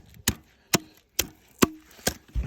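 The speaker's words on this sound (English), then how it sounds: "I have one of these little Fiskars, little hatchets, and it's perfect." A small Fiskars hatchet splits firewood in five sharp, evenly spaced woody chops, each a crisp crack with a short thud, close and distinct against near silence.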